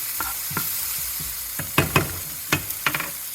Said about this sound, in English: yeah, I can see the garlic's getting brown.